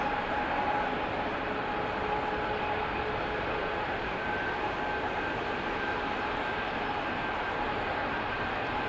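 Boeing 777 airliner on the move at Birmingham Airport, a steady distant engine roar and whine holding level for several seconds, with no talking.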